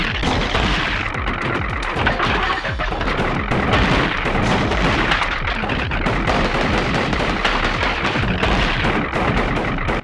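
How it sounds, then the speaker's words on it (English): Continuous barrage of gunfire and missile blasts from the video game Gato Roboto, loud and dense with rapid overlapping bursts throughout. "being able to shoot and use the missiles simultaneously is also handy"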